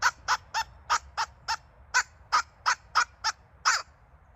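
A handheld squirrel call is blown in a quick series of a dozen sharp, raspy, high-pitched chirps, evenly spaced and fairly loud against a quiet background.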